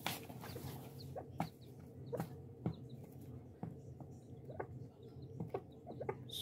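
Chickens cluck in a winter garden on a sunny January day after being shut in for days. Scattered, fairly faint clucks and short calls come at irregular intervals over a low background hum, with no voices.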